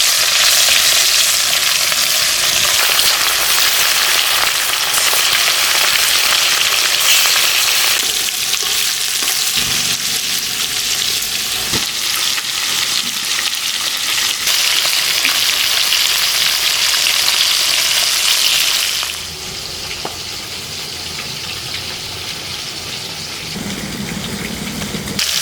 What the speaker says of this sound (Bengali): তেল আমার গরম হয়ে গেছে, আমি এখন মাছগুলো তেলের মধ্যে ছেড়ে দিচ্ছি।